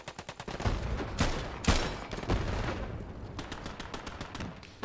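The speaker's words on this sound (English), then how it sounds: "MG42 far side" Distant MG42 machine-gun fire in a Hell Let Loose battle, with rapid crackling bursts rattling steadily throughout, heavier booms and impacts mixed in, and no voices.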